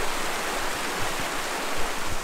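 A small waterfall pours over rocks in a steady, broadband rush of water, close and continuous, with no voices.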